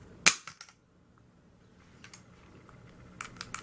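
Hi-Point pistol dropped one foot, its sear releasing the firing pin: one sharp metallic snap up close, followed by a few small rattles and faint clicks, with no voices.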